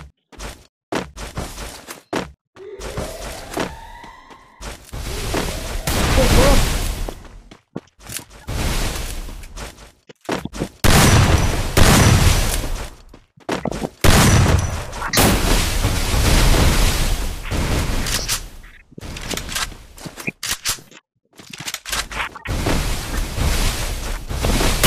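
Gunfire in an online shooter game: irregular bursts of shots and heavy blasts spread over the stretch, loud and close, with short quiet gaps between volleys and no talking over them.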